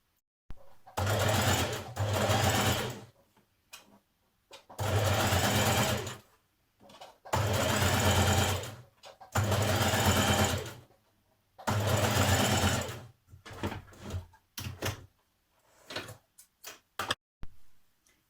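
Domestic sewing machine stitching the underarm sleeve seams of a jersey dress, running in five long bursts separated by pauses, then several short stop-start runs toward the end, close and steady.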